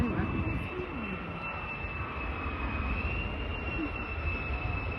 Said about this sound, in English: This one's an F-35.